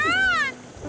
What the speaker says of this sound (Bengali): ডেকেছে ময়ূর, তোর ডাক শুনে নিয়েছে।